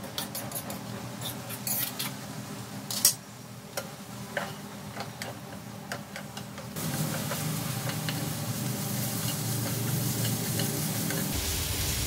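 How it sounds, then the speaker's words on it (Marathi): Jackfruit sautéing in mustard oil with masala, a steady sizzle with scattered ticks and scrapes of stirring, the frying growing louder and denser partway through, with no voices. "फणस चांगले परतले गेले."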